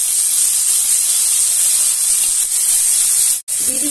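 Chopped tomatoes dropped into hot oil with browned cumin seeds for a cauliflower, potato and fish curry, a loud, steady, close-up hissing sizzle that barely dips once near the end.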